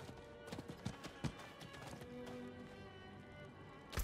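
Horse hooves in the Diablo IV video game clip-clop at a trotting pace, a run of close, fairly quiet hoof strikes over a steady game ambience, with no talking.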